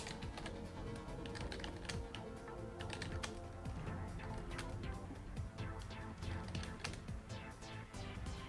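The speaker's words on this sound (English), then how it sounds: "There's only so much typing I want to have to do in a game." Rapid, irregular clicking of a computer keyboard as someone types during a game, steady close-up keystrokes continuing throughout at a quiet level.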